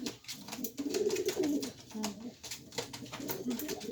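Pet pigeons or doves cooing indoors in soft, throaty repeated calls, close by, with a little background noise and faint household sounds.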